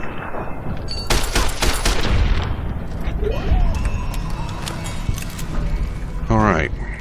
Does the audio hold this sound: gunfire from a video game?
yes